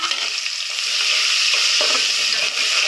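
Sliced onions and cumin frying in oil for an egg dum biryani gravy, giving a steady, loud close sizzle with faint stirring scrapes throughout, no voices.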